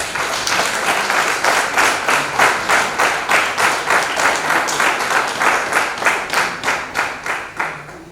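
A church congregation applauds Father Hubert Kelowide in Benin, loud rhythmic clapping that settles into a regular unified beat, roughly two claps per second, steady throughout and tapering at the end.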